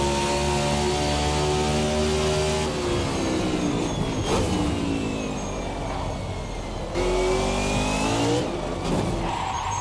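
A race car in the Race Sim Studio Hyperion 2020 racing simulator roars loudly throughout, its engine note rising and falling through gear changes with brief bursts of tire scrub, no voices.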